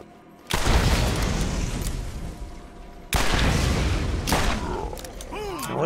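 Masher revolver gunshots in Borderlands, two heavy booming blasts with long rumbling tails, the second about three seconds after the first, loud and close, with game effects sweeping at the end.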